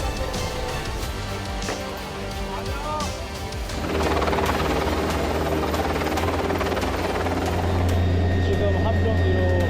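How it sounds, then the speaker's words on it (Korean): A navy fleet helicopter carrying a military medical team approaches a ship at sea, its rotor thumping and engine whining steadily and growing louder midway, with people talking over the noise. "함대 헬기 타고 출동해서 지금 배로 접근하고 있는 상황입니다"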